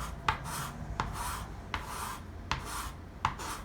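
Chalk pastel rubbed on its flat side across paper, a steady rasping scrape repeated in regular strokes about every three-quarters of a second, close and fairly quiet.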